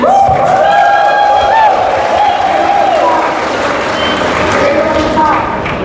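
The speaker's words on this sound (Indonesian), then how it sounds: "tepuk tangan." An audience claps at an organisation's anniversary gathering in an assembly hall. Sustained crowd applause fills the space, with a ringing tonal hum or feedback running over it.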